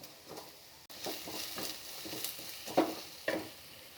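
Carrots and shredded cabbage sauté in butter in a pan for a homemade vegetable soup, giving a soft, steady sizzle broken by occasional scraping stirs, quiet and close, with no voices.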